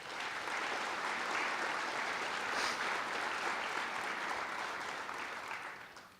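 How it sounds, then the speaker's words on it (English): Audience at a police department awards ceremony gives a sustained round of applause, steady and even for about six seconds before tapering off, with no talking. "please give him a round of applause"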